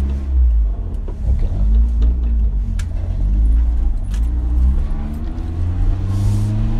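A driving-school car built for drifting runs on a road lesson, its engine a loud, close, low rumble that rises and falls as it revs, with a brief word spoken.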